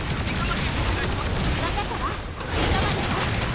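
Funnel missiles firing during a Gundam Evolution match: a dense, continuous barrage of rapid blasts and explosive crackle, loud and close, with a short dip before the volley resumes.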